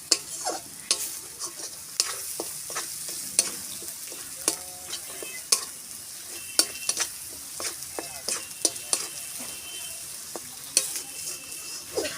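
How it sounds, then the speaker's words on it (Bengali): Chicken kosha frying in a pan with a little salt, with a steady sizzle and frequent sharp scrapes and clinks as a spatula stirs, close and continuous without talk. "অল্প নুন, দিয়ে ভালো করে একটু কষে নেবো।"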